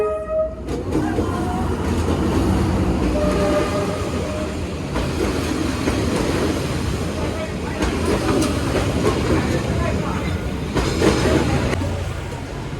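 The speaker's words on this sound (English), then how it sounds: "there's a train coming" A train rumbles past close by in Hanoi, Vietnam, for several seconds, heavy rolling noise with a horn blast near the start and clattering wheels throughout.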